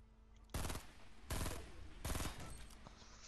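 Gunfire in the video game Fortnite, three loud bursts of rapid automatic shots spaced about three-quarters of a second apart over a quiet background.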